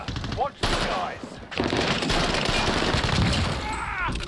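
Gunfire in the Call of Duty Warzone video game, dense and continuous with overlapping automatic bursts and single shots, loud and close, with players' voices speaking amid it.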